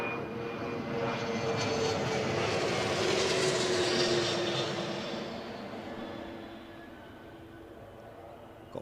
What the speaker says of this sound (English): It must be the Gulfstream by the sound of it.